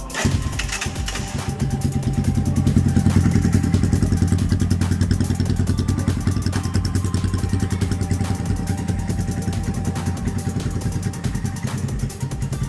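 A motorcycle engine with a faulty electric starter is jump-started from a low battery in neutral, firing up and settling into a loud, steady, rattling idle that runs on unbroken, heard up close with no voices.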